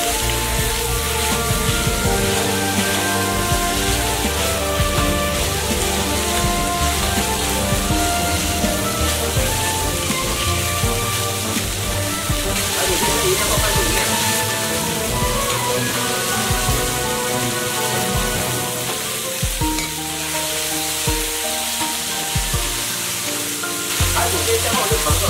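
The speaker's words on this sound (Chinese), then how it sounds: "油热后把排骨放进去煎" Pork ribs for Guangxi-style perilla braised ribs fry in hot oil in a pan, a loud, continuous crackling sizzle that holds steady from start to finish with no voices over it.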